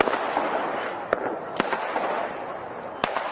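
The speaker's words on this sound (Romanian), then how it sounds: "un individ a lansat focuri de artificii în direcția unui bloc de locuit." Fireworks launched toward a residential apartment block on New Year's Eve in Russia, a dense steady crackle and hiss with several sharp bangs standing out, recorded at moderate distance.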